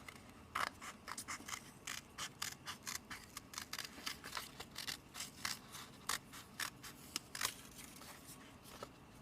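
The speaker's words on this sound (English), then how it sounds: "I'm going to keep cutting it, moving along to the middle. And cutting back around." Scissors cut through paper during a flower craft, a long run of quick, crisp close snips in an irregular rhythm, fairly quiet with no talk.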